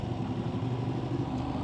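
A 2025 Ducati Panigale V2 S is ridden, its engine a steady low droning roar mixed with wind rush, heard from on board for a brief moment.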